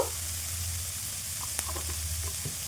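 Chopped capsicum and green chilli fry lightly with a little salt in a pan, giving a steady close sizzle with a low hum underneath and a few soft clinks of stirring.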